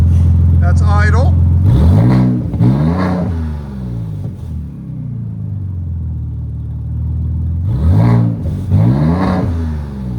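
A Ford Raptor fitted with a Flowmaster Outlaw series exhaust roars through several sharp revs that rise and fall. Between the bursts it settles into a deep, loud idle rumble.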